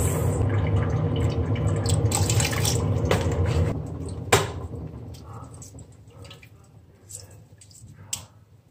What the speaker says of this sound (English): Gonna put some water in there